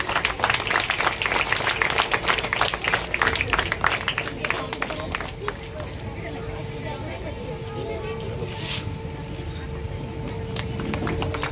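Audience at a Ganesh Jayanti celebration held by a Ganeshotsav mandal giving a burst of loud, dense applause that fades after about five seconds into crowd murmur and talk.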